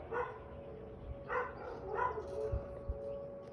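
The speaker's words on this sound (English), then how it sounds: "Dogs are barking because the sirens are going off." Dogs bark in short bursts, a few yips and whimpers spaced across a few seconds, while a steady tone from the Whelen 4004 tornado siren being tested in Gurnee, Illinois hums underneath; the sounds are moderately faint.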